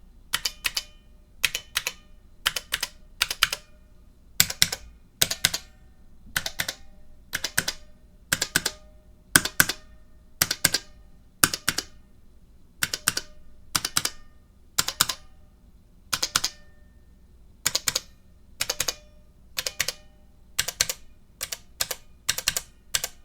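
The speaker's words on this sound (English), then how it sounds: "Hold the keyboard upright and gently tap so springs fall into place." Keys tapped one after another on a Model F keyboard, a run of sharp, distinct clicky strikes at an uneven typing pace, close and clear over a quiet background, with no voices.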